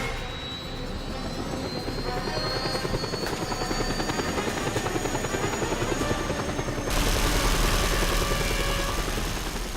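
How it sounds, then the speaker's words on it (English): Helicopter flying in the video game Just Cause 2, a loud continuous rotor and engine roar with a steady pulsing beat that grows heavier toward the end, no voices. "let's steal a helicopter and leave this base"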